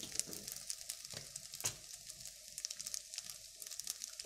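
Chicken and rice cook in a pot with a soft, quiet sizzle, broken by scattered scrapes and taps as they are stirred, all fairly faint and without talk.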